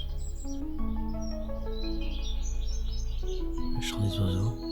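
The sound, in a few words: birds singing in the morning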